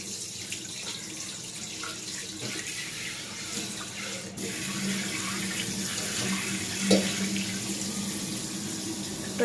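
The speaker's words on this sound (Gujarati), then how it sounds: "સરખી ધોજે ટપેલી, દૂધ ફાટી જશે." A pot being washed under a running kitchen tap, a continuous close splash of water whose flow changes and grows fuller partway through, ending with a brief clank of the pot, with no voices.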